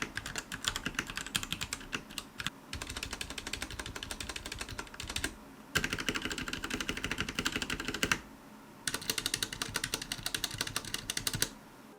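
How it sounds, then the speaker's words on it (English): Stock RK100 96% mechanical keyboard being typed on: rapid, close, continuous key clacks in long bursts with two brief pauses, no speech. "There's going to be a sound test, so that way you can hear the keyboard stock completely"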